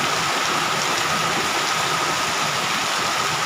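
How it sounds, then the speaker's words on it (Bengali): Steady, dense rain pours down without a break, a thick roaring hiss filling the whole stretch, with no voices. "এখন অনেক জোরে বৃষ্টি হচ্ছে এখন"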